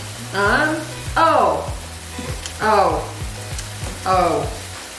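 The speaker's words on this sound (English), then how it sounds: "you hear those bell peppers just sizzling in the background." Bell peppers sizzle steadily in a hot pan, a constant frying hiss running under a few louder, voice-like bursts.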